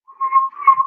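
A single person whistles a tune, a clear, close melodic whistle of a few sustained notes.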